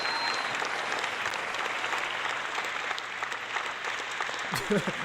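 Continuous applause fills about five seconds of a live trading stream, moderate and even, with a brief low thump near the end.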